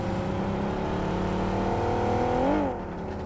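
A vehicle engine in a video game holds a steady drone, then revs briefly upward near the end before dropping back to a lower hum, with no voices.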